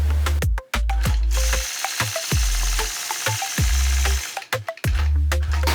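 A home sewing machine runs in rapid, close bursts of mechanical chatter with brief pauses, free-motion quilting a medallion motif along the concave edge of a quilting ruler.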